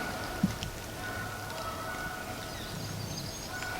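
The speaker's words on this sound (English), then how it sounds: "It's starting to rain." Steady, light rain patters continuously in the background, with a faint bird call now and then.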